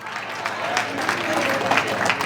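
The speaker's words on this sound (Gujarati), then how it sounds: "તાળી પાડો ભાઈ ભાઈ." An audience at a community felicitation event for ascetics claps, uneven bursts of many hands close by, with crowd murmur and a voice mixed in.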